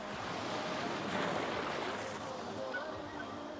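Heavy sea waves breaking and washing around an Intex Seahawk 3 inflatable boat, a continuous loud surf roar with wind buffeting the microphone, swelling and easing without pause.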